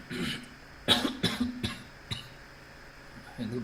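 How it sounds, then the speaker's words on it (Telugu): Several sharp coughs in a quick cluster, close and fairly loud, with a fainter one following, in a quiet room during an online forex lesson. "ఎందుకు దగ్గు వస్తుంది?"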